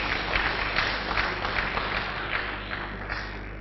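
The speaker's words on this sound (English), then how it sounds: "Can we please give him another round of applause?" Audience applause at an academic colloquium, a steady wash of many hands clapping in a hall that holds at a moderate level and slowly fades toward the end.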